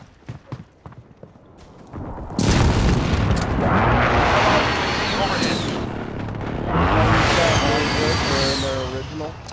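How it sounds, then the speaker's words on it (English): Airstrike explosions in a first-person war video game set a loud, rolling barrage of heavy blasts and rumbling booms going after a quieter opening, with a second swell of detonations near the end. "Allied precision airstrike incoming."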